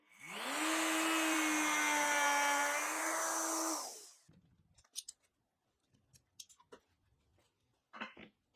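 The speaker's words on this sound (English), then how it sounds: "I'll use that with the router and a pattern following bit" A router fitted with a pattern-following bit rounds the corners of a plywood desk, a loud, high, steady whine lasting about four seconds, then stopping and leaving scattered light knocks and clicks.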